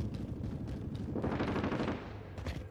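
Rapid bursts of gunfire crackle continuously, dense and loud, like automatic weapons firing in Call of Duty: Warzone, with no talking.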